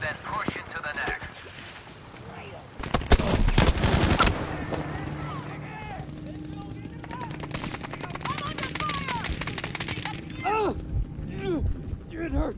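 Rapid machine-gun bursts and scattered gunshots in the Battlefield 5 video game on Solomon Island, a loud volley in the middle, with shouted voices and battlefield chatter throughout.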